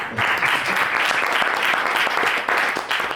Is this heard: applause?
yes